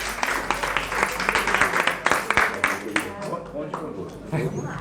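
A room breaks into steady applause, many hands clapping together at close range, with voices chattering underneath as it gradually tapers off.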